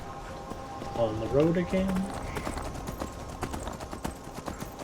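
Horse hooves clip-clopping in the Skyrim video game, a steady rhythmic gait running under game sounds while someone talks briefly over it near the start.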